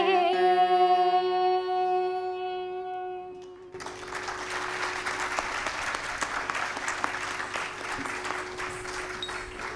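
After a sustained sung and instrumental tone fades out, an audience at a Bharatanatyam arangetram breaks into steady applause for dancer Kritika, a broad wash of many hands clapping that continues evenly to the end.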